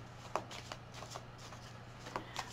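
Oracle cards are handled and shuffled close by, giving soft riffling rustles and a few sharper flicks and slaps spread irregularly across the moment, quiet and without talk.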